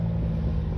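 Noisy diesel truck engine on a long road trip, a steady low rumbling drone heard from inside, constant and fairly loud with no pauses.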